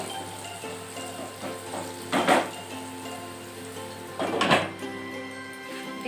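Carrots frying in oil with salt, a steady soft sizzle under a low hum, with two brief louder bursts of crackling as the pan is stirred.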